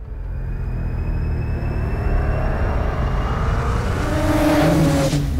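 A 2023 Polaris snowmobile accelerating, a loud sustained engine roar that rises in pitch and builds steadily toward the end, with no talking.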